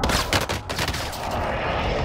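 Dense, loud gunfire and explosive airstrike blasts from the Call of Duty Warzone video game, a continuous barrage of rapid shots and booming impacts filling the whole stretch with no talk.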